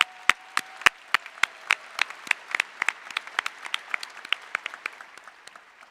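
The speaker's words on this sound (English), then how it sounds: "Let's give them a round of applause." Scattered applause at a Corvallis High School graduation ceremony: sharp, distinct claps, at first widely spaced and then thickening into a quick uneven patter before fading, with no one speaking.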